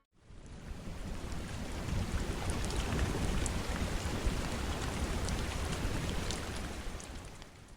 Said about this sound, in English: the rain had moved in